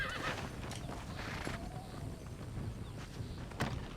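A horse in the Red Dead Redemption video game gives a whinny over soft clip-clop hooves, fairly quiet and close, with brief sharp clicks scattered through and no talking.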